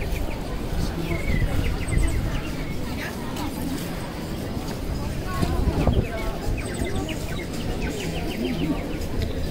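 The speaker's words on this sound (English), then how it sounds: "See some Hungarian bird song." Songbirds at night in Budapest during a Christmas-season city walk, several thin chirps and trills repeating over a busy low background rumble of the street.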